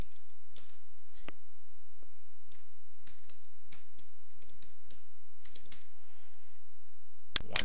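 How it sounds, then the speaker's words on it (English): Keys clack on a computer keyboard while a drawing command is typed in a 3D modelling program, a quick run of close, light taps in irregular bursts with a louder rattle at the very end. "We just type 3D face."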